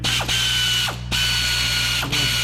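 Ratchet wrench clicking as it loosens a 10mm ground bolt on a Nissan Altima 2.5 S, close and crisp, in three short bursts of rapid pawl ticks separated by brief pauses, over a low steady hum.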